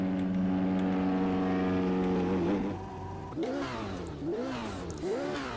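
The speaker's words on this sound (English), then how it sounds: "can we have a bit more exhaust noise whilst we're in the cockpit" Racing car engine and exhaust in the Automobilista 2 racing game, a loud sustained buzzing drone that drops off then rises again in repeated revving sweeps as the car shifts and accelerates.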